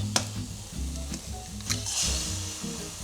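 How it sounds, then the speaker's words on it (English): An egg cracked into a hot frying pan for home-cooked Indonesian fried rice, with a brief crack followed by close, steady sizzling and light clattering. "you want to crack open the egg"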